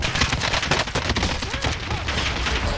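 Dense, continuous gunfire from a Call of Duty Warzone match, with rapid overlapping shots forming a loud, steady barrage throughout.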